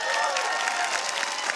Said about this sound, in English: Those of you who already know this, let me know by a round of applause.